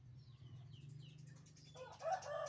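Fighting roosters and chickens clucking and calling softly at close range over a low hum, with a brief burst of sharper fowl sounds near the end; quiet overall.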